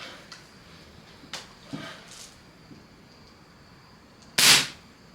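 A Remington Air Arms 77 air rifle, pumped four times, fires one loud sharp crack near the end after a stretch of faint handling clicks.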